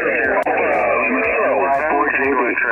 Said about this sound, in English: What, you want a pileup that sounds like this?